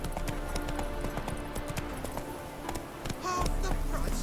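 Roach the horse gallops in The Witcher 3, a steady rapid clip-clop of hooves close by under game music and a brief voice.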